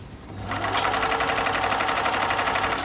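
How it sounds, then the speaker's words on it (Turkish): A PFAFF 1222 sewing machine starts up and runs a straight stitch, a close, steady rapid mechanical whir and clatter at constant speed with no talking. "Şu anda düz dikişi çalıştırıyoruz."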